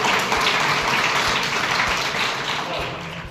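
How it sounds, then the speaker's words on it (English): A group of students clapping steadily and fairly loudly in a classroom, a sustained round of applause with some voices mixed in. "Clap for it."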